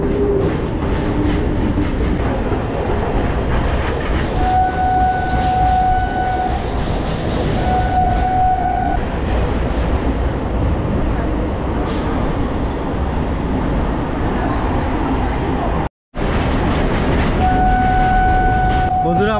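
A Majerhat–Barasat local train in Kolkata rolls along between Khidirpur and Prinsep Ghat, with a steady rumble and rattle throughout and a brief dropout near the end, and no talk over it.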